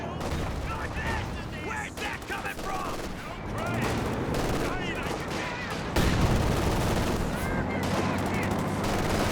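Machine gun and other gunfire in Company of Heroes 2, dense overlapping bursts and explosions from a 1v1 battle, loud and continuous, with a commentator talking over the combat.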